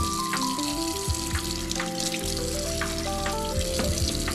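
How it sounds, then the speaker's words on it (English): Hands are washed under a running kitchen tap before cooking breakfast, producing a steady, close rush and splash of water that continues without a break and with no voices. "I wash my nubs every time before I cook"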